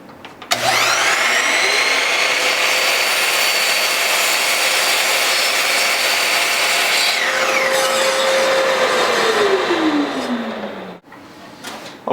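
A miter saw spins up with a loud whine, bites through a wood board in one long cut, then winds down, all close and alone.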